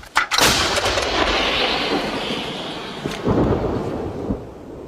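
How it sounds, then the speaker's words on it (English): A half-century-old Soviet-origin howitzer fires, one loud, close boom followed by a long rumbling echo that rolls on for several seconds, with lighter thuds and rustling later. "Their howitzer, half a century old and of Soviet origin, may not be the largest artillery caliber, but it shoots quite accurately"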